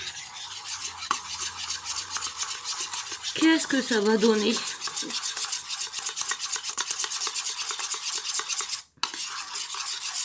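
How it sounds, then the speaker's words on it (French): Homemade chocolate mousse mixture stirred in a bowl, a continuous close scraping and swishing that runs steadily throughout with a brief pause near the end, while someone speaks over it. "Je vais mélanger tout de suite."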